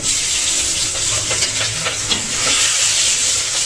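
Spices such as asafoetida and dried red chillies dropped into hot oil, giving a loud, continuous close hiss and sizzle with faint crackles, no talking.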